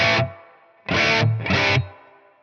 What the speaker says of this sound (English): if I bring that high pass all the way down, you can hear that low end thump to the reverb tail